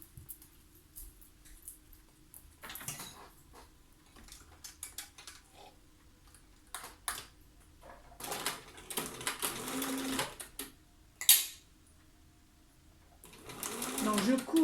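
A sewing machine stitches 1 mm from the edge of the fabric in short, quiet bursts of needle chatter. The bursts are broken by pauses, light handling clicks and rustling.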